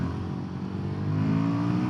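Royal Enfield Guerrilla 450 motorcycle engine droning steadily on an open road at moderate speed, with a low rumble that builds slightly in the second half, heard close and continuous with no talking.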